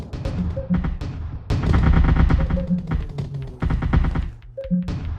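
Rapid rifle gunfire in the sci-fi strategy game Artificial Extinction, dense bursts of sharp shots repeating continuously at close range with brief pauses, alongside mechanical game effects.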